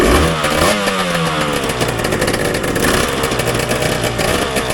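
A two-stroke motorcycle engine catches after a bump start with the choke out, then runs loud and close with a rough, raspy buzz and clattery revving that rises and falls over several seconds.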